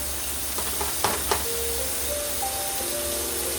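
Pepper steak steams and sizzles softly in a pan, a steady low hiss with a couple of brief clinks or stirs near the middle and faint tonal hums in the background.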